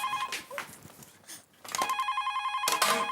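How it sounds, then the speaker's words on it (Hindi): A telephone rings indoors in a household comedy scene, its bell-like tone sounding in bursts separated by brief pauses, fairly loud and close, with some background noise between rings. "फोन उठी, फोन।"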